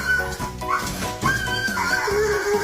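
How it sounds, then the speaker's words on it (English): A dog gives a string of loud, close, drawn-out vocal barks and yowls in an indoor room, with brief gaps between calls. "No one can hear you bark in here."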